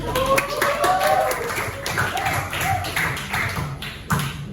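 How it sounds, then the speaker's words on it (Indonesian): Scattered hand clapping from a small group of teachers in a training session, uneven and moderately loud, with a voice speaking over it. "Boleh tepuk tangan."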